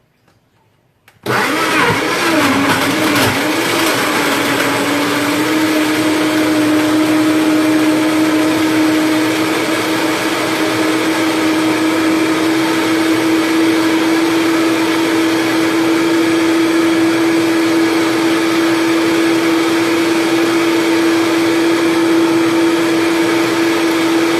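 A blender whirring through raw plum and cherry tart ingredients while they are pushed down into the blades. It kicks in after a brief silence, then holds a loud, steady motor whine for over twenty seconds with no talking.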